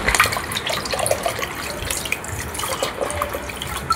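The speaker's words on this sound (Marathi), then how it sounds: "आता मित्रांनो हे सगळं धुवून घेऊ आपण" Ganpati festival decorations being washed by hand in a bucket of water, with a steady close splashing and trickling of water running for the whole stretch, no voices.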